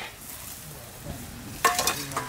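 Onion and spice paste fry in a hot pan for an eggplant, cauliflower and egg curry: a steady close sizzle with a louder burst of stirring and scraping near the end.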